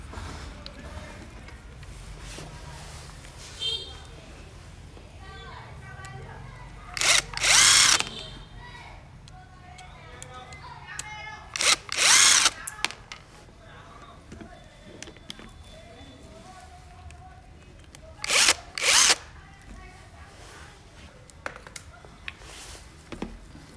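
A power screwdriver backs screws out of an electric fan with a seized shaft and stuck bushing. It runs in three short whirring bursts, with someone talking between them.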